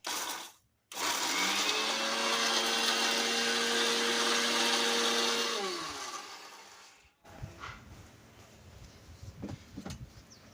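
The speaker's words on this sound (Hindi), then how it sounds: "चल तो संगवारी हो मैं चालू करत हूँ मिक्सर ला।" Electric mixer grinder grinding chillies, a loud sustained whirring drone running about six seconds alone, with pitch shifting as the load changes, then winding down into quieter clattering handling sounds.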